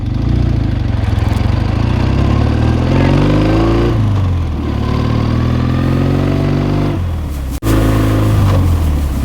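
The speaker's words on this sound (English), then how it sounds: "I'm in second gear now. Very smooth shifting." A 1973 Chang Jiang sidecar motorcycle engine revs loudly and close, pitch rising in repeated pulls through the gears with brief dips at each shift and a sharp knock near the end.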